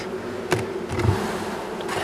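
Honeybees buzzing at an open frame pulled from a hive holding two queens and a drone, a faint steady hum with a couple of brief, slightly louder passes of individual bees.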